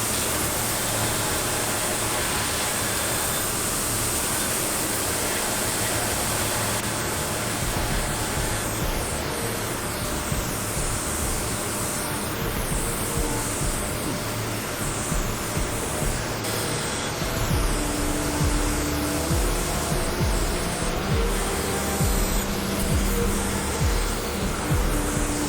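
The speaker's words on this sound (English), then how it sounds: "We're going to do a little bit more profile grinding" Belt or angle grinder profiling a forged spear blade from 1900s scrap steel, a loud steady broadband grinding roar running continuously with slight shifts in pitch and pressure.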